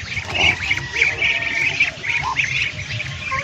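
Ducks squawk and quack repeatedly in a noisy cluster, close by, feeding on banana leaves, with a low background rumble underneath.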